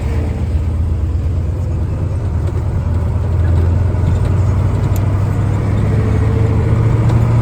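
MTZ 892 tractor driving on a road, a loud steady engine drone with a deep, constant low hum and rumbling road noise, rising slightly in intensity midway and holding even without talk.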